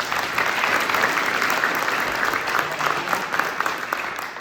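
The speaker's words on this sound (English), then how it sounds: "have a round of applause for all the volunteers" A steady round of applause from a sizeable crowd, dense clapping that holds evenly throughout with no talking.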